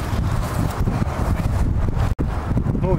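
Wind gusting across an outdoor campsite where a campfire is being built with damp wood: a steady, loud rushing buffet against the microphone with brief dips and rustles, continuous throughout and without speech.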